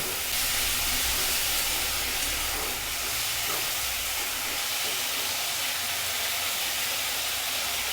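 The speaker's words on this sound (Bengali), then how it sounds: "আলুটা আমি হাই ফ্লেমে দু মিনিট মতন নাড়াচাড়া করে নেব" Potatoes seasoned with salt, turmeric and a pinch of sugar sizzle in a pan over a high flame as they are stirred, giving a loud, steady hiss with faint scraping underneath.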